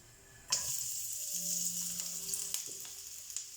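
Ingredients for Thai drunken noodles hit hot oil, with a sudden loud sizzle that settles into a steady, close frying hiss. Faint scrapes and taps are heard as the food is stirred in the pan.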